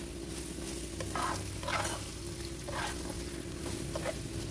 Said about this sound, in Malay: Terus dikacau-kacau lagi sehingga sosisnya agak garing